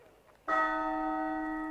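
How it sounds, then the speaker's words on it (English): A great castle bell in the Lost Odyssey video game strikes once, loud and sustained, ringing on as an emergency assembly signal after a quiet moment. "From the direction of the castle comes the sound of the great bell, an emergency assembly signal to the soldiers patrolling the streets."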